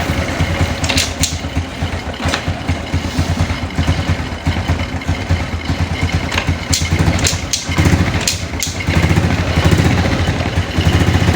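A cold motorcycle engine idles in neutral while warming up, a steady, close, continuous low rumble that runs unbroken for the whole stretch, with no voices over it.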